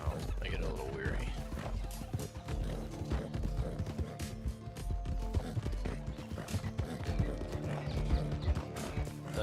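Horse hooves gallop in a steady clip-clop from the video game Red Dead Redemption, with a whinnying neigh near the start, all over a dense, continuous in-game soundscape.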